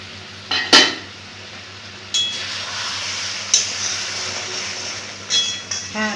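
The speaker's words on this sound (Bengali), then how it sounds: "ঢাকা খুলে দেখবো তরকারিটা কত দূর হয়েছে" A metal lid lifted off a pot of simmering milk-based pointed gourd curry brings a sharp clink and scrape, followed by a few more light clinks of metal against the pot over a steady low cooking hiss.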